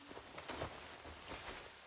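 Steady rain falls in an anime scene, a dense continuous patter with a few louder splashy bursts, moderately near and heard alone without voices.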